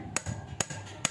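A hammer striking while fitting a tricycle rear wheel, three sharp metallic blows spaced evenly about half a second apart, close and clear over a quiet background.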